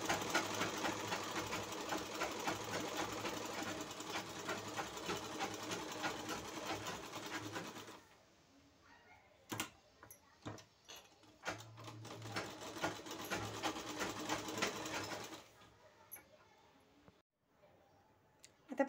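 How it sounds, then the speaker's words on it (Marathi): A sewing machine stitching a back-hook blouse starting from the neck, a steady close whirring hum for several seconds, then stopping into scattered clicks and handling before a short second run of stitching. "इथून आपल्याला गळ्यापासून शिलाई सुरुवात करायची आहे."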